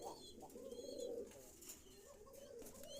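Pigeons kept for sale give faint, low cooing calls, with a few higher chirps and soft rustling in between.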